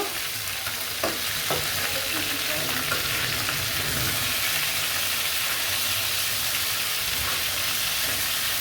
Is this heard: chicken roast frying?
yes